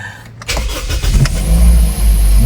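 A 2007 Toyota Vios engine cranks briefly and catches, then settles into a steady, quiet low idle, heard close and alone without talk.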